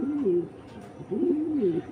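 A male racer pigeon, eager for its mate, coos loudly and close, two rolling bursts of warbling calls split by a short pause.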